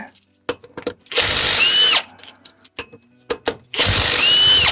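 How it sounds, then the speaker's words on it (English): An impact wrench with a 14mm socket removes flywheel bolts on a Nissan Xterra/Frontier during a clutch job: two loud hammering bursts of about a second each, separated by quieter clicks and shop handling noises. "This in 14mm socket and impact to remove the flywheel bolts"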